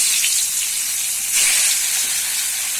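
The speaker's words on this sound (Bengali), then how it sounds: "তেল হয়ে গেছে, এবার মাছগুলো দিয়ে দেবো।" Fish frying in hot oil sizzles loudly and continuously up close, a dense crackling hiss that swells briefly midway, with no voices.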